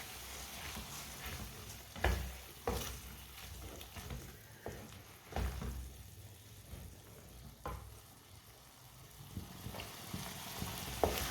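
Three eggs are stirred and cooked in a pan on a stove for a peas and egg dish, a faint, steady sizzle broken by soft scraping knocks of the spoon at irregular moments.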